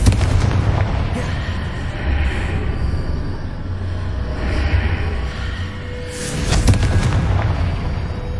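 Booming magical blasts from the Confringo spell in the video game Hogwarts Legacy, several heavy rumbling explosions rolling one after another with a sharper crackling burst near the end, loud and continuous without pause.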